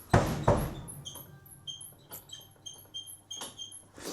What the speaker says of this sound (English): All I could hear was the squeak on that Speed King.